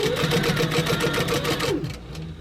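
Sewing machine stitching elastic onto a fabric crossbody bag, a steady rapid mechanical whir with regular needle clatter, close and loud, running continuously before stopping abruptly near the end.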